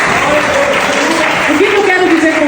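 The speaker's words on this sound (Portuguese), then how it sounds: "Será que você pode aplaudir a Jesus por isso?" Congregation applause in a church service, a steady, dense wash of clapping filling the room, with a voice or singing tones running over it.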